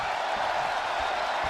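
The crowd at a WWE 2K video game wrestling match keeps up a constant roar of cheering, a dense, even wash of noise with no breaks.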